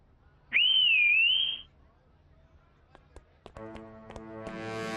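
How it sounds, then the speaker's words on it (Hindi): A single sharp, high whistle blast lasts about a second, followed by a few light taps and a rising tonal sound. "फोन क्यों करना है, सीटी बजा देते हैं।"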